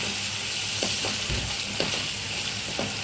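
Sliced onions fry in masala with added salt in a pan, giving a steady, close sizzle with a few soft scraping stirs and no talking.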